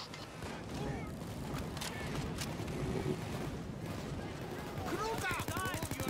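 Gunfire from a sniper and other weapons in the video game Payday 2, rapid bursts and sharp shots near the end amid a busy, noisy game scene with voices talking.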